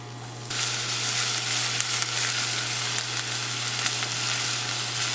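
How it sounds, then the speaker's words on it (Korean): Chopped green onion sizzling in about one and a half spoons of olive oil in a preheated pan, a steady close frying hiss that begins abruptly and holds loud and even throughout, with no one speaking. "예열팬에 올리브유 한 스푼 반 정도 두르고 다진 파 한 큰술 넣겠습니다."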